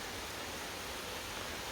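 Steady, loud rush of a waterfall on the Uvas Canyon loop trail, a dense broadband roar filling the whole clip with no voices over it.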